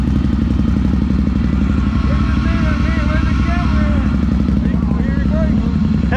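A three-wheeled vehicle's engine revs loudly and continuously, with a dense low rumble and rising and falling pitch, while mechanical clatter and voices come through on top.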